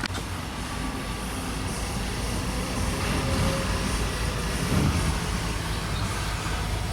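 A shop vehicle lift raises a roughly 15-year-old Toyota FJ Cruiser, giving a loud, steady droning motor noise that holds evenly for about seven seconds with no talking.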